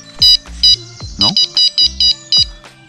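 A carp fishing bite alarm beeps in a fast series of sharp, high electronic tones, about eight pulses in three seconds, loud and close, with a short whistle-like tone in the middle.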